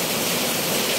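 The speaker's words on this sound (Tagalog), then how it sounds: "buhos na naman yung malakas na ulan" Heavy rain pouring down steadily in a dense, loud, unbroken hiss, close and continuous, with no voices.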